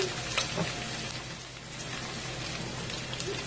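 Onion sautés in a pan until translucent, giving a dense, even sizzle with faint stirring scrapes and no voices.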